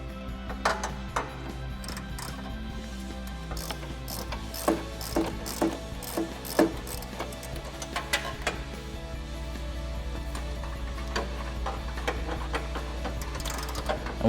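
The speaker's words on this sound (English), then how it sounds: "we're using that 21 millimeter socket to remove these nuts" A ratchet with a 21 mm socket clicks in uneven bursts while removing front bumper nuts on a 2021–2022 Ford F-150, close and crisp over a steady low hum.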